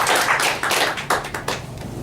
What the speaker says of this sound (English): Let's give a round of applause to Kenny Bean for coming.